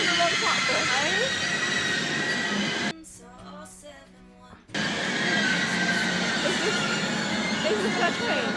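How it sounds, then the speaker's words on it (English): A train pulls into a station platform with loud rumbling and wheel screech, interrupted midway by a brief quieter gap before the roar resumes; voices speak nearby. "Is this her train?"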